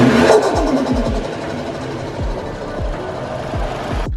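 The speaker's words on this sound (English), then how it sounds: "I'm gonna go ahead and give you guys some rev bombs real quick" Toyota JZX100 Mark II engine idling with a rough, pulsing exhaust note, broken by a series of regularly spaced low thumps during the rev bombs, close and fairly loud throughout.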